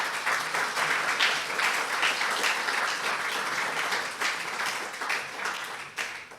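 A church congregation claps together during a sermon, a steady mid-distance wash of many hands that swells and pulses slightly, with no voices standing out.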